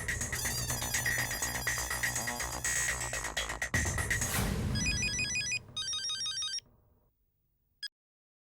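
A telephone ringtone trills in the foreground in a home sitcom scene, a loud electronic ring pattern over busy background sound, then breaking into short repeated bursts before cutting to near silence with one brief final blip.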